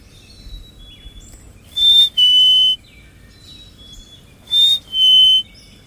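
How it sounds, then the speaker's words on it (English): Clear, piercing bird whistles repeat in short pairs of pure notes, ringing out against a quiet outdoor background. "You can hear the birds. You hear the birds? Listen to that one."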